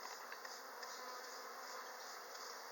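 Honey bees buzzing during a hive inspection, making a faint, steady, dense hum of many wings with no pauses.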